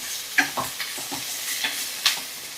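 Dill leaves frying and being stirred in a pan for a dal fry, a soft steady sizzle broken by several light scraping stirs, close and fairly quiet with no talk.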